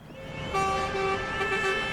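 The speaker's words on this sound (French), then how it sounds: "Sous les klaxons des automobilistes qui soutiennent l'action" Car horns sound on a motorway as drivers back a protest by oyster farmers from the Arcachon basin: sustained, overlapping toots over steady traffic noise.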